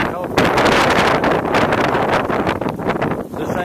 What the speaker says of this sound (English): the wind is right now gusting to 30